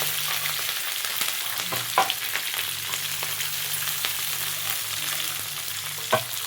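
Onions fry with curry leaves in hot tempering oil, a steady close sizzle broken by a few louder stirring clanks, with no voices.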